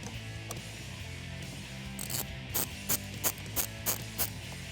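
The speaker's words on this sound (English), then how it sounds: "now we'll do our negative terminal I'm using a 13 mil socket" A ratchet with a 13 mm socket tightens a negative battery terminal on a Jeep, giving a close, fairly quiet series of about seven sharp clicks in a steady rhythm over a low hum.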